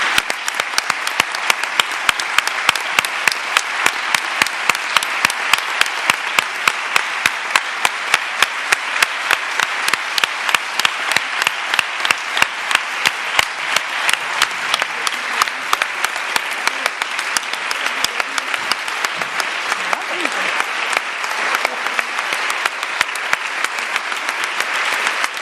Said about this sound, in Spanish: yo ese aplauso se lo daría a ella